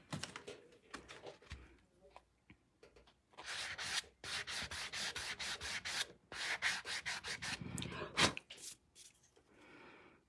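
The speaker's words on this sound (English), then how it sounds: "That is not the right sanding block." Sanding block rubbed over distressed wood in bursts of dry scraping strokes, close and fairly loud, pausing between passes.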